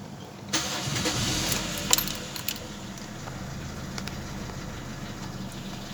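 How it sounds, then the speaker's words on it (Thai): A car with a cold engine on a cool morning is started: a brief starter crank and catch, then the engine settles into a steady, fairly quiet idle, with a few small clicks and jingles nearby. "13นาทีจะสตาร์ทรถนะครับ"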